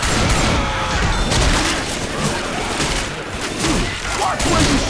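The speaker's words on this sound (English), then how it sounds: "Watch where you're shooting!" Left 4 Dead 2 versus match with a constant barrage of overlapping game gunfire, loud and dense, with booms and crashes under a continuous wash of noise.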